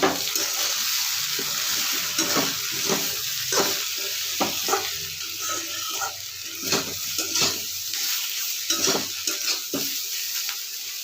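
Okra frying with homemade spices, turmeric and salt in a pan, a steady sizzle broken by repeated scraping stirs of a spatula at an even rhythm, close and moderately quiet, with no voices.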